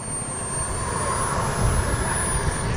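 A Seagull Models Delta 40 model jet airplane engine roars steadily and loudly throughout at an airplane show field, a continuous broadband rushing whine with a high tonal note, with no talk over it.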